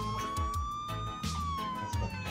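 Police sirens wail in a DayZ video game, a steady rising-and-falling tone with harmonics, loud and close, over low rumbling engine or game noise.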